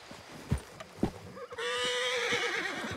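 A horse in the video game Red Dead Redemption 2 gives a loud, drawn-out whinny after a few thudding hoof knocks, close and clear with game ambience behind.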